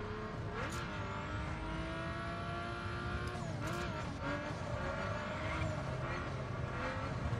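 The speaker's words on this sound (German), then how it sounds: "Oh, Drift bei 250." A Porsche in the racing video game The Crew drifts at around 250 km/h, its engine wailing loud and steady with pitch swoops and tire squeal through the corner, continuous across the whole stretch.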